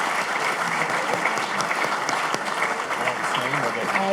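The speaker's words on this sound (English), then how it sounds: "So let's give them all a round of applause." Audience at a university distinguished lecture on Alzheimer's applauds the panelists, a dense, steady wash of many hands clapping throughout, with some voices faintly mixed in.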